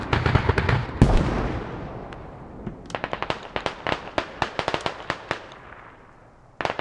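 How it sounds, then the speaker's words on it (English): Mortar shells land in a video game match, opening with a heavy blast and rumbling decay, then a rapid string of sharp, distant impacts, ending with another close burst. "Mortars landing on top of this cluster of Rip guys"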